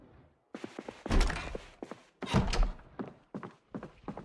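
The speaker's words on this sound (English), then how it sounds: "Oh my god, there's a zombie banging on my shit." Repeated heavy thuds from a zombie banging on a door in the game Project Zomboid, coming in uneven bursts of several knocks with short pauses between them, loud and close.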